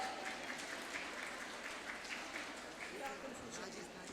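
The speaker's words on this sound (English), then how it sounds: "Please give them a thunderous round of applause." Steady audience applause at a school foundation day event, a continuous dense patter of many hands lasting throughout, moderately loud with a faint murmur of voices beneath.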